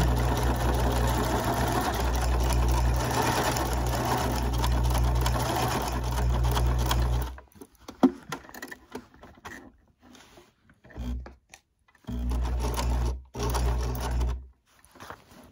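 A sewing machine stitches fabric in a loud, steady whirring run for about seven seconds, then several short stop-start bursts of stitching follow, separated by pauses.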